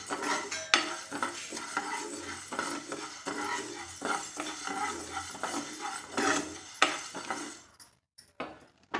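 Lentils for idli podi dry-roast in a pan while a spoon stirs and scrapes them in repeated soft rasps and metallic clinks, close and fairly quiet, with a faint sizzle.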